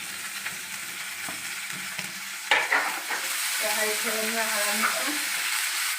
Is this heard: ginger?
yes